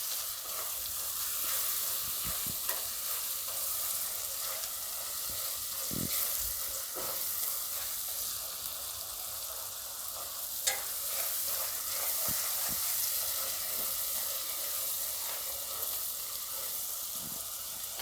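Spinach and moong dal with spices cook in a pan with a steady, quiet hiss and sizzle, punctuated by occasional faint stirring clicks, close by and without talking.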